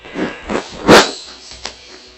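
In the game Last Day on Earth, a few dog barks and yips, one louder bark in the middle, with sharp, somewhat synthetic-sounding barks and short pauses between them.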